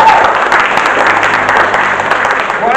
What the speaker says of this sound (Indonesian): Tepuk tangan untuk Zaman